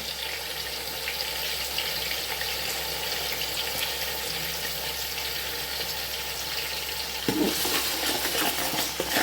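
Vegetable fried rice with onions and Maggi cubes being stirred in a hot pan, giving a steady close sizzle with soft scraping that swells briefly louder near the end.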